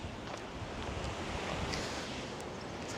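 Waves washing onto a rocky beach on Japan's Pacific coast, a steady broadband surf roar mixed with wind noise on the microphone, continuous and fairly close with no voices.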